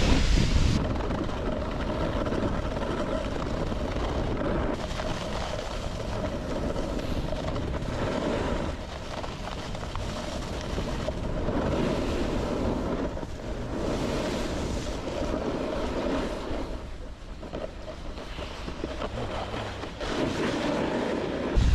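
Strong wind gusting across a ski run at Whistler Blackcomb, a steady loud broadband roar with surging gusts buffeting the microphone throughout, no voices.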